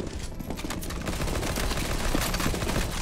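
Sustained automatic gunfire in CSGO Zombie Escape, a continuous rattle of rapid shots from several weapons at once, loud and unbroken throughout.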